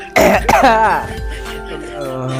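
A person coughs sharply twice at close range, then clears the throat with a rough, voiced rasp that fades out.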